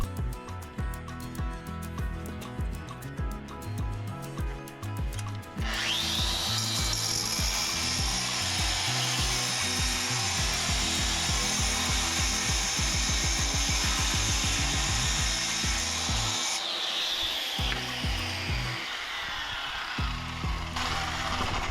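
A power saw cuts concrete steps beside a wall, a loud sustained high grinding roar after a rattling start-up, running steadily before winding down near the end.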